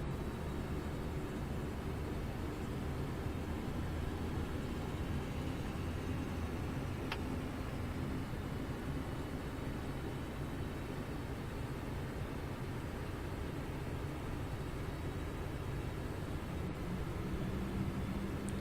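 The right engine of a Saab 340A turboprop keeps running after spool-up in X-Plane 11. It makes a constant, even broadband roar and hum that goes on unbroken, with no voices.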